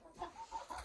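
Young chickens give a few soft, close clucks in quick succession, faint and brief.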